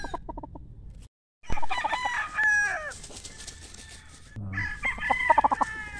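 An Allen Blues gamefowl rooster crows loudly nearby, its long wavering call followed by more crowing and clucking from other chickens.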